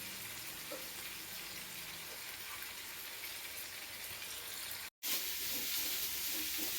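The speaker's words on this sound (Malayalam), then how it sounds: "ചിക്കൻ വറുത്ത് കോരി" Chicken frying in a pan on a home stove, a steady broadband hiss and sizzle throughout, close and continuous, with a brief dropout near the five-second mark before the sizzle resumes slightly louder.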